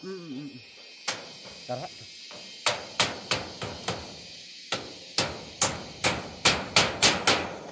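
A voice briefly at the start, then sharp hammer blows ring out, sparse at first and then a steady rapid run of loud strikes.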